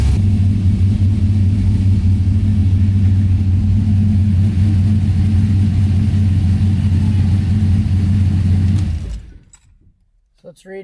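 A car engine running loud and close at a steady low idle after the fuel pump is primed, a constant deep rumble that cuts off abruptly near the end.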